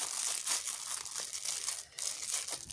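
Stuck-on plastic protective film being peeled and handled while unboxing cross-stitch supplies, producing continuous close crinkling and rustling with a brief dip near the end.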